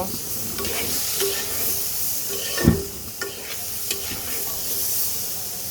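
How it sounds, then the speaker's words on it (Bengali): Spice mix with turmeric and coriander powder being fried and stirred in a pan for a prawn curry, giving a steady soft sizzle with scraping stir sounds throughout. "মশলাটা দেওয়ার পর দুই এক মিনিট একটু হালকা ভেজে নেব"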